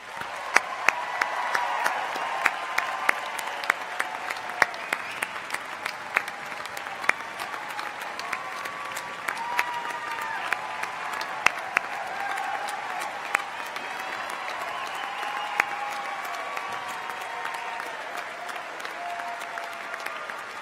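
A large commencement crowd applauds a graduating class at the University of North Georgia ceremony, with dense, sustained clapping filling the hall for about twenty seconds, steady and loud, with occasional sharper individual claps standing out.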